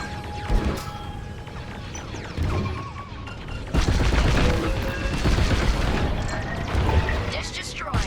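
Starfighter blasts and crashing impacts erupt in Star Wars Squadrons as a communications dish is destroyed, a burst of sharp explosive hits building into dense, loud crashing debris, with battle chatter mixed in.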